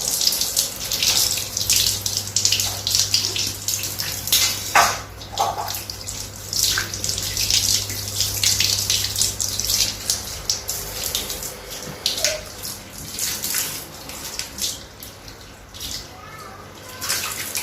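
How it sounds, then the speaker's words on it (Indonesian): A tap runs steadily into a basin while feet are washed for ablution, a continuous close splashing stream with shifting spatters as water hits skin and drains. "membasuh kaki, dibasuh, bukan hanya disiram"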